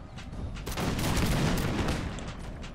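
Dense musket volley fire from a Napoleonic Total War 3 mod battle in Napoleon: Total War, a continuous crackling barrage of many overlapping shots that swells and stays loud throughout, with no talk.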